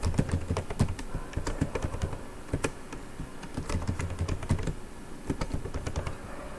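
Steady typing on a computer keyboard, with quick irregular clusters of close, crisp key clacks running continuously and no voices.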